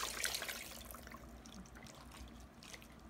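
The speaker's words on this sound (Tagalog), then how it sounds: "maglalagay po ako ng tubig sa sabaw" Water poured from above into beef caldereta sauce in a frying pan, a soft continuous trickling splash at close range that fades slightly, with no talking.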